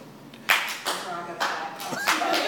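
Scattered hand claps at a press conference, a handful of sharp separate strikes spaced unevenly, close and fairly loud, with a faint voice murmuring between them.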